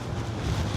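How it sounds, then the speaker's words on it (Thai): Wind buffets the microphone outdoors on a dry, sunny day, a dense low rumble that roars steadily for a brief moment without any voices. "โอ้ยลมเนาะ"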